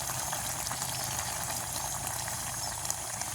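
An eggplant curry bubbles in a pot during village cooking, a steady, moderately quiet simmer with a continuous fizzing and popping texture and no voices over it.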